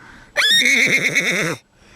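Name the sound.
person imitating a horse whinny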